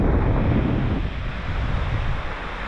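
Ocean surf rolls and washes steadily on a New Zealand coast, loud and close with gusty wind buffeting the microphone.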